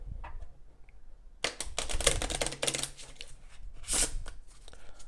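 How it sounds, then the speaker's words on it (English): A deck of Copag playing cards being shuffled on a table, a quick riffle of fluttering clicks lasting a couple of seconds, then a short bridge-like burst, close and fairly quiet. "Do a quick shuffle."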